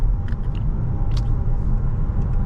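Cabin noise inside a VW Tayron R-Line cruising on a highway in fifth gear: a loud, steady low road and engine rumble with faint brief rattles, no talk.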